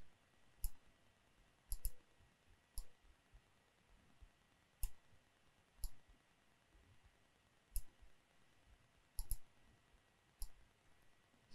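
Computer mouse clicks while placing points in vector design software, single and paired sharp clicks spaced about a second apart against a very quiet background with no talk.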